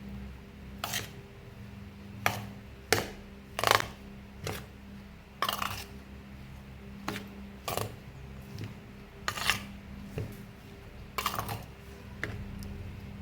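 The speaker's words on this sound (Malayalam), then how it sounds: "ഇതും കൂടെ ചേർത്ത് കൊടുത്തിട്ട് നമുക്കിത് നന്നായിട്ട് ഇളക്കിയെടുക്കാം." A spoon stirring asafoetida and spice mix for mango pickle, giving soft scattered clicks and scrapes against the bowl at an irregular pace, quiet and close with no talk.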